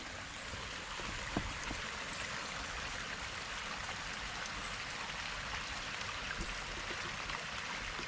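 A creek runs beneath a small bridge just below a beaver dam in a wildlife sanctuary near Huntsville, Alabama, giving a steady, soft rushing and gurgling wash of water with no voices.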